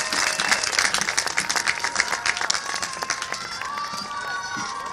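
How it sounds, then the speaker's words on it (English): Commencement audience at the Laney College 2023 ceremony breaks into sustained, dense applause with scattered cheers, steady and full throughout the hall. "Give him a round of applause."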